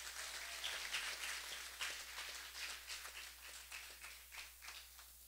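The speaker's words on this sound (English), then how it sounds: "Give yourselves another round of applause." Audience applause at a 2022 graduation ceremony on Andros, a steady wash of many hands clapping at moderate distance, sustained evenly for several seconds with no speech over it.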